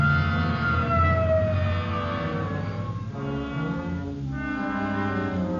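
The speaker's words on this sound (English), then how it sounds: "Okay, hit the siren." A police car siren wails nearby during an emergency response, a loud, sustained rising and falling tone that continues for several seconds without speech.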